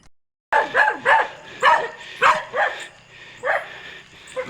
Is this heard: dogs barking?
yes